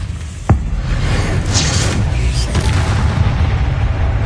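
A Bombarda explosion spell goes off in Hogwarts Legacy with one sharp, loud blast, followed by a rumbling, sustained roar and a few fainter crackles.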